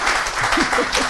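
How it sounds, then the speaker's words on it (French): An audience claps steadily for about a second at a talk event, a dense, continuous patter of hands with no voices on top. "Ça s'applaudit."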